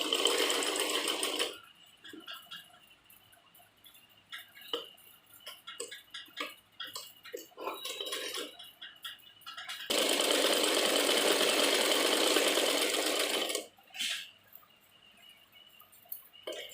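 A sewing machine stitches a sleeve onto a child's frock in two long steady runs, with stop-start bursts and ticking between them, close up with no talk.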